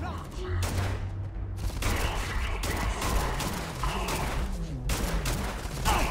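Grenade explosions and gunfire in the video game Starfield: a dense, loud barrage of shots and booms that runs continuously, with a voice talking briefly over it.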